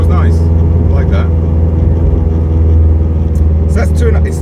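A turbocharged Honda Integra DC5 Type R engine drones loudly and steadily from inside the cabin at low road speed, a constant deep rumble with a faint whine above it.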